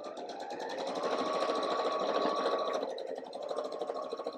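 A sewing machine stitches two quilt block sections together, its rapid needle clatter running close and steady, briefly slowing then resuming in quick bursts near the end.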